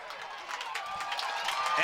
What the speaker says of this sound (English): Crowd trying to psych out Jake Anderson